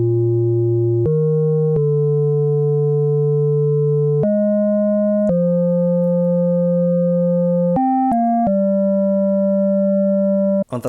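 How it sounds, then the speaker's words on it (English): A clean fifth sine organ instrument in BandLab plays a slow run of sustained, pure tones, each held for one to three seconds before stepping to a new pitch, alone with no other instruments or voices. "I use a clean fifth sine organ instrument, and it sounds like this."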